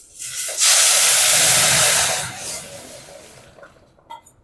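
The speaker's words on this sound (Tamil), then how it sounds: "இப்போ குழம்பு ஊற்றிடலாம்." Curry broth poured into a hot pan of fried vadagam and onion, a loud hissing surge of steam that swells quickly, holds for over a second, then fades to a soft simmer with a few faint clinks.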